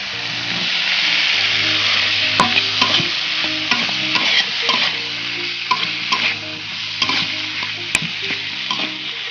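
Potatoes and tomatoes added to a cooked spice masala, frying with a loud steady sizzle while a utensil stirs and scrapes in repeated strokes.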